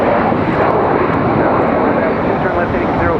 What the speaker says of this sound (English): Nice touchdown for the CRJ.